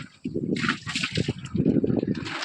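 Water bailed out of a large mackerel fishing boat in the evening, heard as close, repeated sloshing and splashing scoops in quick uneven bursts.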